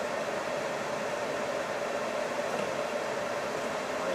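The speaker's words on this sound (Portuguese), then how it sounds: "o barulho que está fazendo aí é do ar-condicionado" Steady, even whoosh of a truck cab's air conditioner with the fan on maximum, a constant close drone with a faint hum and no other sounds.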